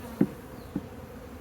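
Honey bees on a beehive frame buzz in soft, close hums, with brief louder passes near the microphone against a quiet droning background.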